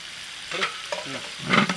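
Vegetables in a pan, cauliflower, radish, carrot, baby corn and green chilies, stirred for an Irish lamb stew, with a few soft scraping strokes over a faint sizzle, close and fairly quiet.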